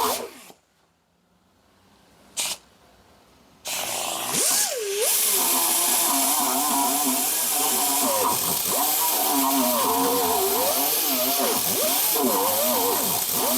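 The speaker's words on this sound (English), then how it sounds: "We're gonna set up to start grinding to get that piece out of there" An angle grinder grinds out a rear shackle bushing piece, starting after a quiet pause with a loud, harsh continuous whine whose pitch wavers and dips as the load changes.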